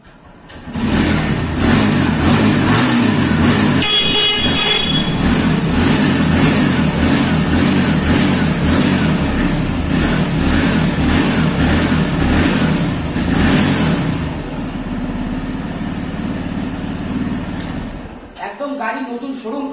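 A second-hand motorcycle with original tyres and about 10,000 km on it, parked at a used bike showroom, runs close up with a steady loud engine note and repeated revs, then cuts off near the end.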